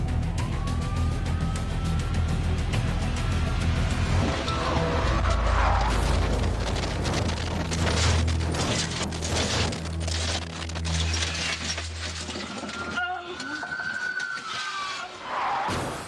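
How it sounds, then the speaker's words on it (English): A stolen car in a high-speed police chase on a highway roars along, with police sirens wailing, tires and engine noise churning, and a clunking burst as it spins out, all loud and continuous. "Eventually, Sponsler lost control of the vehicle and spun out of control."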